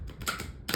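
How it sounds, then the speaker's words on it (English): Large, stiff tarot cards from a deck not yet worn in are shuffled by hand, making a quick burst of papery riffling snaps in two short bursts, close and fairly quiet. "So shuffling them, and they're very stiff still because I've not worked with these a whole lot"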